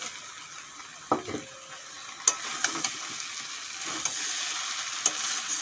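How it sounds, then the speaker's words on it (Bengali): Fried soybeans are stirred into a chickpea curry in a pan, with a steady sizzle broken by a few sharp spoon clacks against the metal. "এখন দিয়ে দেব ভেজে রাখা সয়াবিন"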